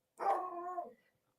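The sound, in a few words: dogs barking in the background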